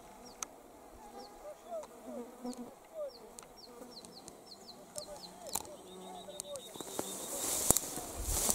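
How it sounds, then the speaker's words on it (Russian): Mosquitoes whine in tall grass beside a rural pond, a faint, persistent buzzing under repeated bird chirps, with scattered louder rustles building toward the end. "комаров много."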